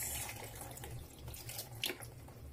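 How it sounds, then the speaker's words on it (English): Water from soaked beans pours and trickles into a sink in a home kitchen, a soft, continuous running splash with a few faint drips and no talking. "I'm first going to drain the water in here."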